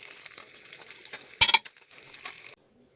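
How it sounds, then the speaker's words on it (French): Seared beef pieces, onions and bits of fat are stirred together in a cast-iron cocotte, a soft sizzle running under a sudden loud scrape and clatter of the spoon partway through, then fading out. "on va le mettre dans notre cocotte avec les oignons, avec nos petits morceaux de gras, tout ça dans la même cocotte"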